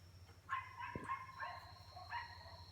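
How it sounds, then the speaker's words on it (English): Neighbor's dogs bark a few times in the distance, faint short yips and barks spread across a quiet room with low background hum. "It's the neighbor's dogs."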